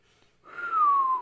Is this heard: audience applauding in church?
no